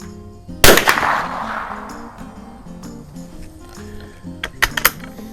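A single sharp crack from a Remington 540-X single-shot bolt-action .22 rifle firing Federal auto match ammunition outdoors, close and loud with a short ringing tail, then quieter handling clicks and a couple of small sharp knocks.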